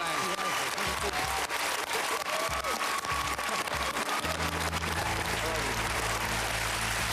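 A television talent-show studio audience applauds loudly and steadily for a contestant's mother, a dense wash of clapping throughout, with a host's voice speaking over it.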